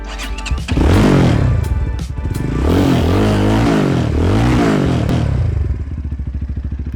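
A Rider 250 R1M 250cc motorcycle engine fires up and revs repeatedly, its pitch rising and falling in loud, close sweeps before settling into a lumpy idle.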